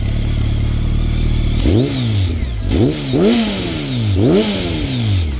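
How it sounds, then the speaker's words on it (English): A BMW motorcycle with an Acapulco exhaust idles with a low rumble, then revs up sharply several times, each throttle blip rising and falling, loud and close. "beautiful sound is the Acapulco exhaust. And let's take a listen"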